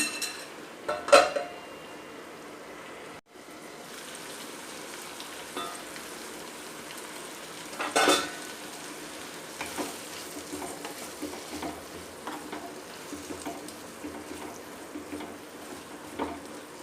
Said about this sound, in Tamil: தக்காளி வெங்காயம் வதங்குறதுக்காக கொஞ்சம் உப்பு போட்டுக்கலாம்